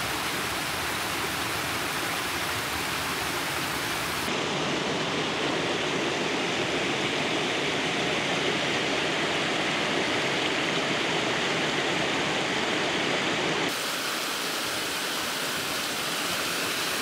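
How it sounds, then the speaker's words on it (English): A larger waterfall pours in a dense, continuous roar, loud and close throughout, with slight shifts in tone as the vantage changes and no one speaking. "Oh, this waterfall is a bit bigger."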